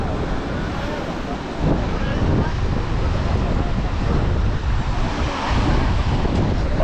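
Ocean waves at Kanyakumari wash in a continuous broad roar mixed with heavy wind buffeting the microphone.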